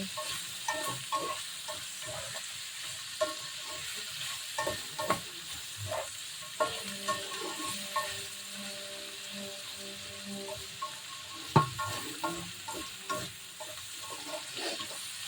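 Pancit sotanghon is stirred in a frying pan, with soft sizzling broken by repeated scraping and clinking stirs, fairly quiet and close, with no talk.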